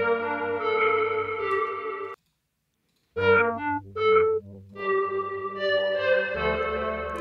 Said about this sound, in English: so first of all, I put some reverb on the sample.